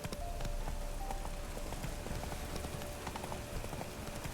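Hooves of the horse Roach clip-clopping in The Witcher 3 game, a quick, steady rhythm of close hoof strikes over faint background ambience, with no talking.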